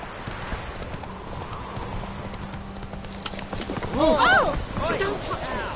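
A horse gallops in The Witcher video game with rapid, steady hoofbeats, and a whinny-like cry rises near the end over the continuous clip-clop.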